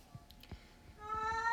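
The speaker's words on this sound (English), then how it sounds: "That's my cat being very vocal." Domestic cat meowing nearby indoors, a couple of brief soft calls followed by a louder, drawn-out tonal meow, with faint low thumps underneath.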